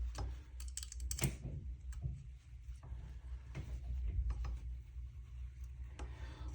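A tool tightens the handguard on an M12AK rifle, producing quiet, irregular metallic clicks and ratcheting scrapes close by.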